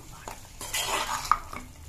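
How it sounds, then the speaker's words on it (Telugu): A spoon stirring spiced mutton curry in a pan, scraping and mixing with a soft sizzle beneath and one sharp clink of metal on the pan, close and fairly quiet. "మంచిగా మిక్స్ చేసుకోవాలి"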